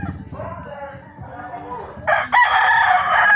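Roosters crowing at a gamefowl farm, a loud close crow rising over the background sounds of other birds, with a second crow overlapping near the end.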